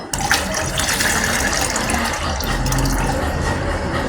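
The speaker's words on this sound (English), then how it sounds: "add in our already dissolved caustic soda into our nitro soap solution" Dissolved caustic soda solution pouring steadily into a liquid soap mixture, a continuous close gushing, splashing stream that runs unbroken for several seconds.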